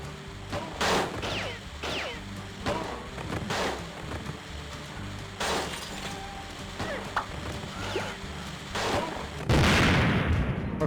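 Repeated gunshots from a Wii western shooter video game, short booming cracks at irregular intervals with one louder blast near the end, over game background noise.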